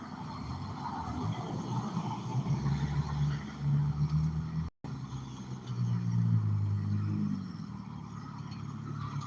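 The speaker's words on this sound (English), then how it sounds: "I'm going to wait till this car comes by" A car engine hums steadily nearby for several seconds, with a brief dropout midway, then rises again as the vehicle passes close by before the sound eases off; no voices.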